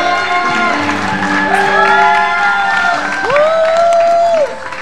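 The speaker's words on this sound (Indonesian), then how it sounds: "Kasih tepuk tangan sekali lagi dong buat Ibu Maria Untu" A studio audience on an Indonesian TV talk show applauds and cheers for a guest, with whoops and shouts rising over a dense, steady clapping that runs loud and close for several seconds before cutting off.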